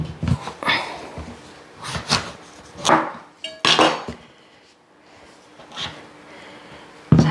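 A gloved hand cutting a pumpkin with a knife while making pumpkin porridge. Several separate crunchy chops and knocks sound close by, with short quiet gaps between them.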